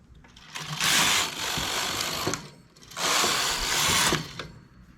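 A knitting machine carriage is pushed across the needle bed in two sweeping passes, each a loud, rasping mechanical whoosh lasting about a second and a half, separated by a short, quieter pause.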